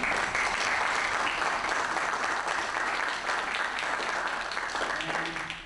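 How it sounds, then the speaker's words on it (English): A room of people at a sheriff candidates' forum claps steadily, a dense, even wash of applause that holds throughout and thins slightly at the end, with no talk over it. "Give him a hand clap."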